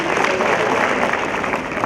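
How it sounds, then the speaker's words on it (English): Applause for a senior class varsity wrestling team at a high school wrestling meet: a dense, steady crowd clapping that fills the whole short stretch at close range, loud and continuous. "Let's have one big round of applause for our entire senior class of your varsity"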